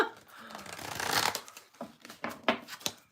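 Tarot cards being shuffled by hand at close range, a sustained papery riffling swell followed by several quick, separate shuffling bursts.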